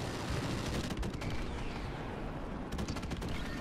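An airstrike in Call of Duty MW1R, heard as a dense, continuous roar of rumbling explosions with rapid crackling gunfire, loud and sustained across the whole clip.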